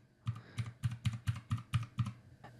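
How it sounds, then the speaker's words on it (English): Keys clack on a computer keyboard as a phone number is entered, about nine distinct evenly spaced taps in quick succession, close and clear with no talking. "So I am typing my phone number."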